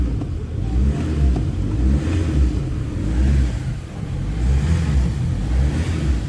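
A car engine revs steadily in second gear with the clutch released, a low, rumbling drone that swells and dips a few times, close and loud, with no voices.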